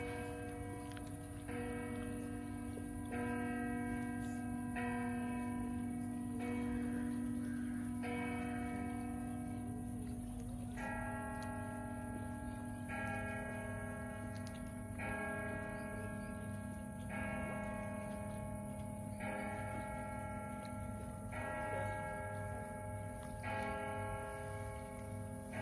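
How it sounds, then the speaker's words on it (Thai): Church bells ringing out at eight in the evening at a lakeside in Cham, a steady series of pealing strokes that carries on throughout over a faint outdoor hum. "เสียงระฆังจากโบสถ์ค่ะขณะนี้เป็นเวลา2ทุ่มตรงค่ะ"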